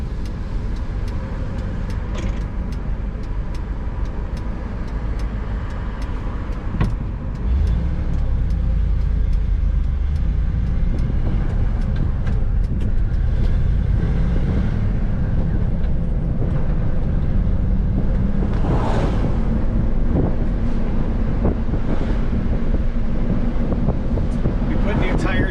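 A 1989 Ford F350 dually pickup on new tires cruises with the windows cracked open, its steady engine and road rumble mixed with wind buffeting the cabin throughout, growing slightly fuller partway in.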